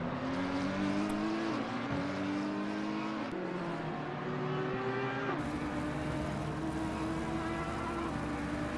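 GT3 race cars, a McLaren and an Audi, roar continuously in a racing video game, engines holding steady tones with audible gear-shift steps as they chase each other at close range.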